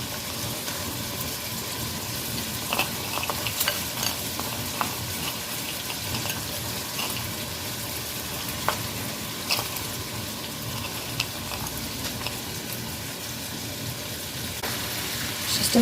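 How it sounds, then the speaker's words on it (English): Onions and peppers fry in a pot with a steady broadband sizzle, punctuated by occasional scrapes and clicks of stirring, close and continuous throughout. "We'll give that a good stir."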